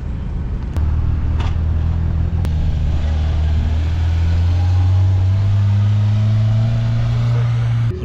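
Supercharged Polaris RZR Pro R UTV on 35-inch tires spins them on pavement in four-wheel drive, a loud, close engine drone rising steadily in pitch as it revs, filling the whole stretch with no talking.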